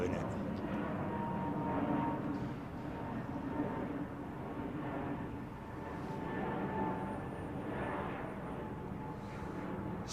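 A continuous broad roar of aircraft on arrival at London Heathrow, runway 09, swells gently and stays steady throughout, with voices faintly under it.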